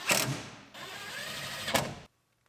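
A ratchet bolting in a heater duct on a GMC Yukon: a close, loud burst of rapid mechanical whirring and clicking that runs for about two seconds and then stops abruptly into silence.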